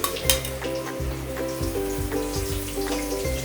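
Fish, including pomfret, rohu pieces and a big-headed fish, fry in hot oil in a pan, a close, steady crackle with intermittent pops and occasional low clunks of the pan, no talk.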